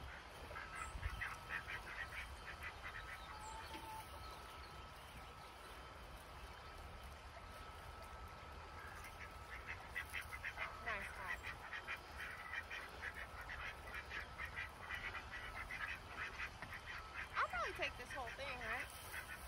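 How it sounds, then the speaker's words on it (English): Wild Canada geese honk outdoors in the cold, faint and distant under steady wind or background hiss, with scattered calls more frequent toward the end. "I know they're probably Canadian geese,"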